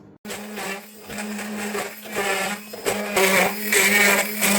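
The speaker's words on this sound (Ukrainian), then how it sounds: "за допомогою блендера буду дрібнити на малесеньку на малесеньку крихту" A blender whirs loudly and steadily, its motor pitch shifting and grinding harder as it crushes dry cookies into fine crumbs, with no voices.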